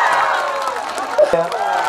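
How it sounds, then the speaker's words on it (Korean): Fan club applause and cheering from a crowd at a trot music event, a steady wash of clapping and voices that runs throughout, with a brief louder burst near the middle. "우리 팬클럽 박수 한번 쳐야지."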